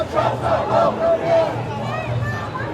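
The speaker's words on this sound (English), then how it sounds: "people chanting very loud and very clear that Donald Trump's not welcome here" A protest crowd chants loudly and steadily against Donald Trump, voices massed together in rhythmic repeated calls with background hubbub throughout.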